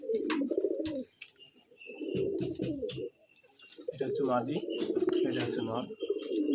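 Pigeons coo in deep, throaty bursts close by, several rounds separated by short pauses, with small chirps and a faint whistle between them.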